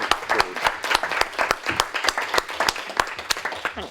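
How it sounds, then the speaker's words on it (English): Applause at a health board meeting from a small group in a meeting room, individual claps distinct and fairly close, forming an irregular, moderately loud patter throughout. "please could we give a round of applause"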